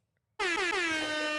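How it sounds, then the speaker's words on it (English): A loud air horn sound effect blasts in abruptly after a moment of silence and holds steady at full volume to the end, a single sustained brassy tone. "Self air horn."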